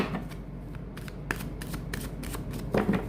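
Playing cards dropped and gathered back up by hand, heard as a run of soft, quick papery slaps and shuffling rustles up close, with a slightly louder flurry near the end and no talk.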